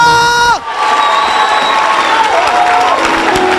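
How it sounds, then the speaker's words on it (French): A crowd at a deliverance service cheers and acclaims, a loud, sustained roar of voices with shouts rising over it. "Vous entendez ça? Acclamez Jésus de Nazareth"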